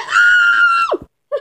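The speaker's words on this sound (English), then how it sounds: "What the heck was that screaming?" A scream from the Minecraft video game: one loud, high-pitched cry held for nearly a second before it drops away sharply, then a brief second yelp after a short silence.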